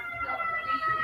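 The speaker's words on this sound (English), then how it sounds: "They're coming. Ambulance." An ambulance siren in Chicago wails faintly with a steady high tone, heard at a distance for about a second.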